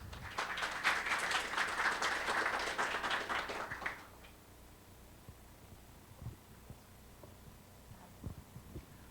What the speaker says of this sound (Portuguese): Pessoal, uma salva de palmas.